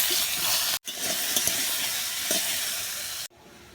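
Watermelon rind goes into hot mustard oil already tempered with five-spice (panch phoron), dried red chilli and bay leaf, making a loud, steady sizzle and hiss with stirring scrapes, briefly cut off twice.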